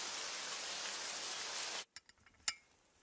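Rain falls steadily as a dense, even wash of hiss for almost two seconds, then cuts off abruptly, leaving a few scattered taps and one sharper knock.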